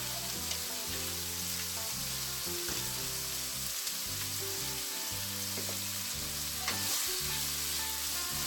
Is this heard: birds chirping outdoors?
no